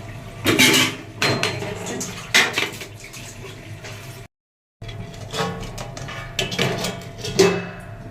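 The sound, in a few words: covering cooking pot with lid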